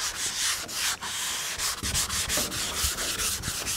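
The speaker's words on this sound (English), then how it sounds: "when you sand this, you can tell what areas are getting sanded and what areas are not getting sanded" Sandpaper scrubbing over a soft wipe-on guide coat laid on a dented panel during bodywork, a close, steady rasping rub with quick back-and-forth strokes and brief dips throughout.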